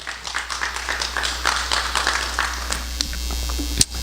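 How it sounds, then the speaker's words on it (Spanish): A church congregation claps together after a sermon about meeting Jesus, a steady wash of applause from many hands in a fairly large room, with a low hum underneath and a sharp thump near the end. "Démosle un aplauso a Cristo"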